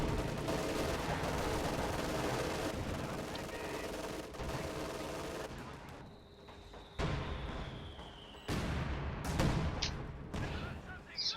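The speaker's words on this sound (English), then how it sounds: "So much indirect fire." Artillery and indirect fire in a Company of Heroes 2 match, a constant rumble of battle broken by several distinct booming impacts and shell whistles toward the end, moderately loud.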